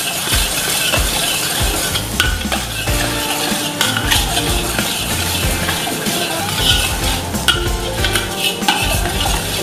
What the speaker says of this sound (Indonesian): Kita tumis sampai halus.